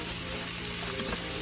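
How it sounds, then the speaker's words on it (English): Vegetables sauté in hot oil in a pan, giving a steady, close sizzle and crackle that holds evenly throughout with no talking. "Like you can literally saute any vegetable."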